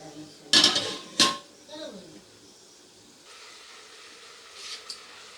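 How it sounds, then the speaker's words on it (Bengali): A spoon stirs lentils (dal) with water in a metal pot: two loud, close scrapes against the pot, then a soft hiss of simmering. "ডালটা দিয়ে একবার খুব ভালো করে জলের সাথে নেড়ে দেব"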